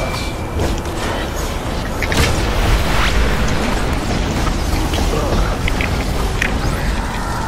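A supercharge power blast detonates in the DC Universe Online video game, a heavy booming rumble that swells and holds steadily across several seconds amid chaotic combat noise, with faint voices underneath.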